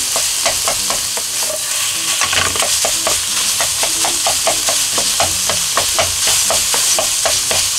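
Meat, garlic chives and enoki mushrooms stir-fried in a pan with miso: loud, steady sizzling broken by repeated rhythmic scrapes and taps of a utensil stirring, close up and with no talk.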